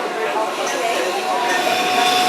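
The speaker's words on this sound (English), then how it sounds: "we are going to ride the tram" An aerial tram car in a rainforest arrives and rolls along its cable with a continuous rumbling, clattering mechanical noise, close and steady throughout.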